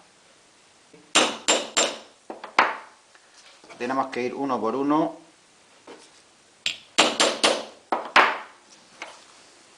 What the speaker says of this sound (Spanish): dando unos golpecitos de martillo